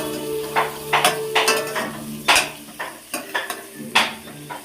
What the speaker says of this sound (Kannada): ಈ ಥರ ಫ್ರೈ ಆಗಬೇಕು.